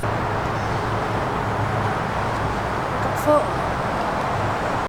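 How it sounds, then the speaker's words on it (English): Steady road noise from a busy bridge full of early-morning traffic makes a constant broad rumble and hiss, with no single vehicle standing out and a brief faint sound near the end. "Sorry about the road noise."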